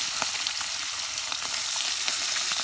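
Puti fish frying in hot oil in a kadai, a steady loud sizzle with scattered crackles and pops from spattering oil, close up and continuous, no voices.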